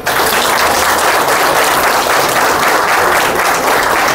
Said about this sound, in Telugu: అట్లాంటి మాతృమూర్తులు ప్రతి ఒక్క వ్యక్తి కూడా ఒకసారి గట్టిగా క్లాప్స్ ఇద్దాం